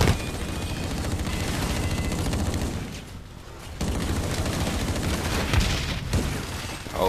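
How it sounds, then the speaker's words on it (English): Grenade blast and gunfire in the shooter game Blacklight Retribution: a dense, loud barrage of booms and shots fills the scene, dips briefly to near quiet, then resumes as heavy continuous firing. "he threw a grenade as well."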